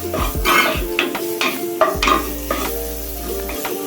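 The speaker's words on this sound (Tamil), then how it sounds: "மஷ்ரூம் நல்லா வதக்கி வெந்து வரணும்." Sliced mushrooms sauté with garlic in a pan for white sauce pasta, sizzling up close while a spatula scrapes and clinks against the metal in repeated stirring strokes.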